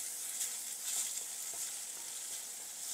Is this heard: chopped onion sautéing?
yes